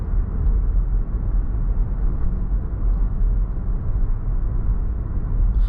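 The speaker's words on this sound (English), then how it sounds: "I like how fast this transmission upshifts too" A Lexus RX350 Perspective drives along with a steady, loud engine and road rumble, the transmission quickly upshifting, with no voices.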